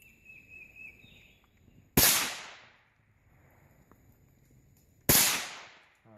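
.22 LR rifle fired during target shooting: two sharp, loud cracks about three seconds apart, each trailing off in a short echoing decay, with quiet outdoor background between them.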